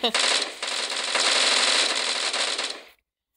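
Sustained automatic gunfire in the video game Bullet Force, a rapid unbroken burst of shots lasting nearly three seconds, loud and close, ending abruptly.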